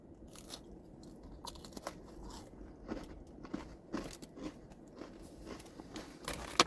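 Someone bites and chews vegetable crackers up close, giving irregular dry crunches and crackles that come in bursts over several seconds, fairly quiet with no talking.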